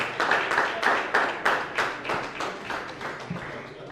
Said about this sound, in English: let's keep clapping for her.